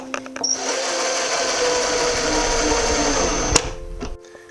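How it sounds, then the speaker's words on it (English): A power driver whirs steadily for a few seconds, screwing small wooden blocks onto a bed frame, close and fairly loud, ending in a sharp click as it stops. "Now I can place the little blocks on their place and screw them in."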